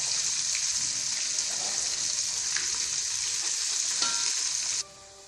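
Onions frying in a pan with oil, ghee and cashews, a steady loud sizzle that continues unbroken for nearly five seconds, then cuts off abruptly into quiet.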